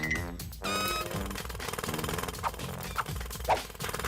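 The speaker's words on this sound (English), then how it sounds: "The drilling sound effect." A loud, continuous mechanical drilling effect from a The Sims advertisement rattles on for several seconds, with a few sharper bumps near the end and no speech.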